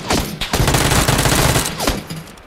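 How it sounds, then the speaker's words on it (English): Rapid automatic gunfire from an online shooter game crackles loud and close in a dense burst lasting about two seconds, with a few single shots at the start and end. "I shot him a few times for you."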